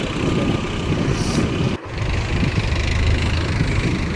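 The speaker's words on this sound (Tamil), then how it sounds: "டிராக்டர் அங்கே இருக்குது பார்த்திங்களா, அது வந்து போட்டை இழுத்து தரும்" A tractor engine rumbles steadily at close range on a beach in Kerala, pulling a boat ashore, low and continuous, with a brief dip in the noise before it resumes straining.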